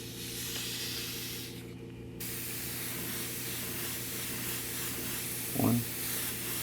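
Spray paint hisses in a light mist coat onto a quarter-scale custom model, a steady airy spray that stops briefly and then resumes, with a low electrical hum underneath.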